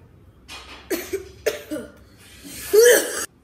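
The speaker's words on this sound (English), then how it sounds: "Your cough's really contagious." Several short, harsh coughs in a ragged series, close and fairly loud, ending in a longer, heavier cough.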